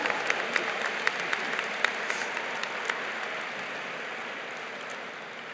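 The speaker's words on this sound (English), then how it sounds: "Let's give all them just one more big round of applause." Steady applause from a large crowd, sustained clapping with a few sharper claps standing out, filling the whole stretch without voices.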